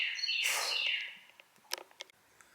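Bright, high bird calls ring out at the start, followed by a few sharp chirps and scattered clicks in a quiet room.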